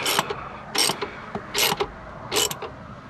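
Ratchet wrench turning 13 and 15 mm sockets on a Ford Fiesta, four bursts of rapid clicking pawl ratchet strokes at a regular pace, close and loud, with faint knocks between.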